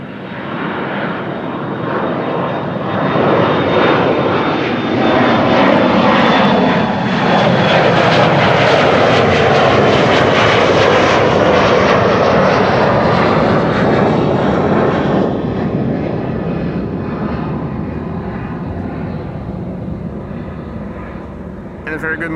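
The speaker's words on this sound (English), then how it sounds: "Departures until the end of the morning still to the west, still scheduled for runway 24," An airliner departs from runway 24 at Amsterdam Schiphol Airport, a loud, continuous jet engine roar swelling as it passes close by, then slowly fading, with voices talking faintly underneath.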